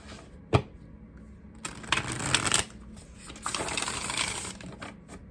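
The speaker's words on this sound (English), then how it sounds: "One more shuffle." Tarot cards being shuffled up close in two bursts of riffling and rustling, with a sharp tap near the start and quiet gaps between.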